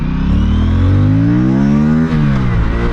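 A 2026 Aprilia Tuono 457 motorcycle engine revs up steadily, its pitch climbing smoothly, then dips briefly as it shifts and pulls on again, loud and close with no voices.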